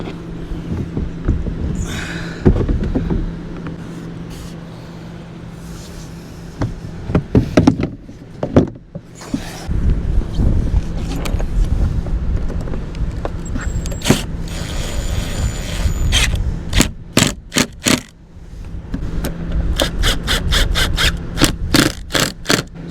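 Screws go back into a cover on a Chevy 2500HD truck part: close scrapes, handling clatter and metallic knocks, then a run of rapid, sharp ratcheting clicks near the end, with no talking.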